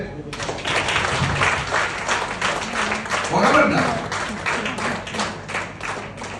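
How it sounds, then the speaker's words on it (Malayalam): An audience claps in a steady, dense patter for several seconds, fairly close and even in loudness, with a voice heard through the applause. "ഒന്ന് കൈയടിച്ചേ."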